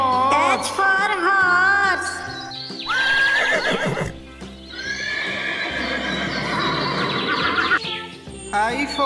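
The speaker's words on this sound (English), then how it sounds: "H for horse." A horse neighs and whinnies in several loud, close calls, with clip-clop hoofbeats between them.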